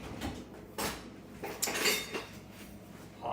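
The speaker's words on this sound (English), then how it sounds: "I'm going to grab the cup measure. Might as well grab the teaspoon measure like that." A cup measure and teaspoon measure being grabbed and handled in a kitchen, giving a few close, bright metallic clinks and rattles spread over a few seconds.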